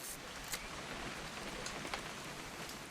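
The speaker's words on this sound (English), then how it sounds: "It's gonna rain the whole weekend, isn't it?" Rain falls steadily in the video game What Remains of Edith Finch, a soft, even hiss of drops with a few sharper splatters, heard alone at low volume without speech.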